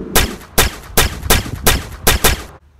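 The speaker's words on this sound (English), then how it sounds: "Now we'll go to shooting training, which includes shooting range and shooting lights" Six loud, sharp gunshots ring out at a steady pace at a shooting range in the Splinter Cell video game, each crisp crack clearly separated, before the sound cuts to silence.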